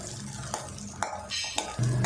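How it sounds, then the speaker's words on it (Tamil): About twenty shallots sautéed over a medium flame in a pan of oil for a vegetable-free kulambu, with several sharp spoon clinks and scrapes against the metal over a steady soft background. "மீடியம் ஃப்ளேம்லேயே வெங்காயத்தை வதக்கி விட்டுருவோம்"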